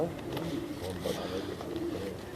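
A pigeon coos softly in a short, low, throaty burble, with a murmuring voice and faint background noise in the same space.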